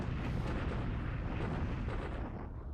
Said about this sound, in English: a little bombing at Pakoi